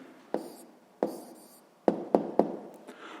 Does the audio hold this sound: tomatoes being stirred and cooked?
no